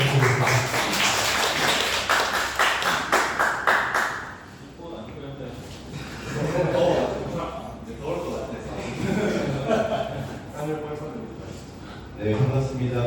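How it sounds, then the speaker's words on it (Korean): An audience claps to welcome an architect to the stage at a lecture in Jinju, South Korea, a short burst of brisk hand claps that fades after about four seconds, followed by someone speaking into a microphone. "박수 부탁드리겠습니다"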